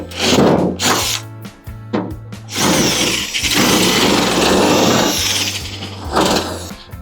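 A power tool cuts out and reams a hole while fender LEDs are fitted to a BMW E93, giving close, loud whirring bursts that start, stop and surge unevenly over several seconds.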